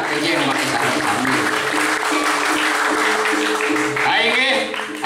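An audience at a traditional Balinese drama gong performance in a temple pavilion in Gianyar claps steadily and fairly loudly under continuous amplified speech.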